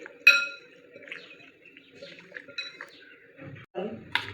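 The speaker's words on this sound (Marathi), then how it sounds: "हा मसाला चांगला मिक्स करून घ्यायचा आहे" Spoons scrape and clink against a bowl as salt and spices are mixed into a mutton curry marinade, with scattered close metallic taps, scraping and brief knocks over a quiet kitchen background.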